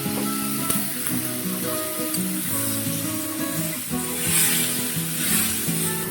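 Potato pieces and soybean chunks frying in oil for soya chunk curry, a dense continuous sizzle under steady background hum, close and fairly loud throughout.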